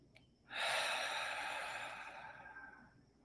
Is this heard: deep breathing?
yes